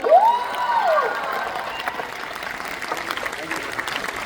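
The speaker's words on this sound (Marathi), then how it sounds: "जोरदार टाळ्या व्हायला पाहिजे" An audience at a Marathi family stage play claps steadily in a theatre, a dense patter of applause that continues evenly after a brief rising tone at the start, with little voice heard.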